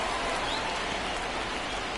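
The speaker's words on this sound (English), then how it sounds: "This rain is not letting up." Steady rain pours down in the baseball video game MLB The Show 2024, a dense continuous hiss of drops with no voices over it.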